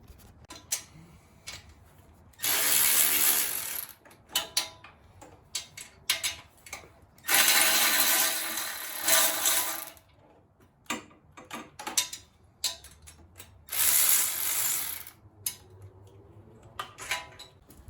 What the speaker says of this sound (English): I'm going to remove 4 nuts with a 12mm socket here and here